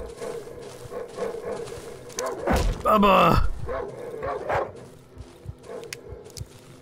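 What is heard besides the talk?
dogs barking in video game Darkwood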